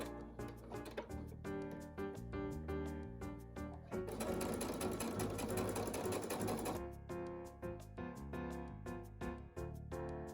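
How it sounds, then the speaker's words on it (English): A sewing machine stitches along a folded fabric strap, its needle chattering in a fast, steady mechanical rhythm up close. Several seconds of louder continuous running sit in the middle, and there is no talking. "I'm going to fold it in half like this and sew it along the line."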